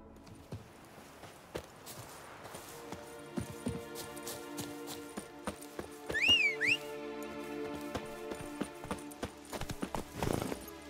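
Geralt's horse Roach clip-clops along in The Witcher 3, with steady hoofbeats close by and a whistle-like swoop briefly over the hooves, while background music plays underneath.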